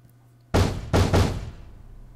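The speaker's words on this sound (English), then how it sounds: "The door looked like it might fall apart at any moment, but Minorikawa didn't care. He pounded on it as hard as he could." Three heavy fist pounds on a flimsy apartment door in the game 428 Shibuya Scramble, one loud thud followed after a short pause by two quick ones, close and booming, with no voices.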